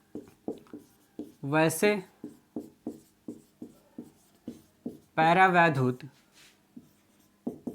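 Writing on a board during a Class 12 physics lesson on parallel plate capacitors: steady, evenly spaced scratchy strokes that continue under two stretches of a man's speech.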